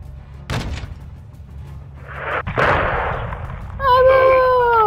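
A 40 mm cannon fires at a door in Call of Duty Modern Warfare 2, giving two loud, sharp booms with rumbling tails a couple of seconds apart, followed by a radio-like voice.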